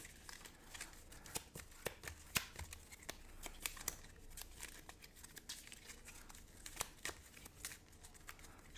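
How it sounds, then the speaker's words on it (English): Marvel Champions cards being shuffled back into a deck on a tabletop, a quiet, continuous run of soft riffling snaps and papery flicks with no voices. "We'll shuffle these back into the deck."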